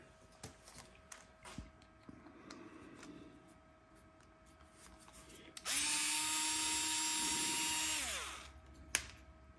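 A power driver whirs steadily for about three seconds as it backs Phillips screws out of an LED light panel, loud and close, after a stretch of faint handling clicks and taps.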